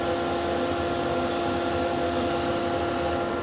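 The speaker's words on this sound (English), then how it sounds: "use good abrasive, fresh abrasive, and keep that abrasive moving around the piece" A wooden bowl on a lathe is sanded with fresh 100 grit abrasive, producing a steady, loud, broadband rasping rub that continues without pause, close up and with no talk.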